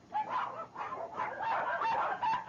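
Several dogs confined in a breeder's cages bark and yip over one another in a continuous, overlapping chorus, moderately loud and slightly distant.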